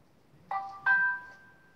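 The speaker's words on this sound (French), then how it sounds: "Désolée, mon téléphone aujourd'hui n'arrête pas." A mobile phone gives two quick electronic chime notes, the second ringing on a little longer before fading, fairly close and clear over a low hum.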